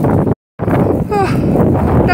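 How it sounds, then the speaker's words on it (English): Strong wind buffets the microphone in a loud continuous rush, briefly cut off, with a few chirpy tonal squeaks mixed in. "I can barely open the door, it's so windy."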